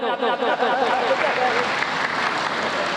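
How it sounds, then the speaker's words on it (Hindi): A crowd at a Guru Purnima and Varshayog kalash-sthapana religious gathering claps continuously in a dense, steady wash, with voices mixed in. "सबसे पहले से कमलेश बसंत के लिए एक बार एक ताली बजा दो"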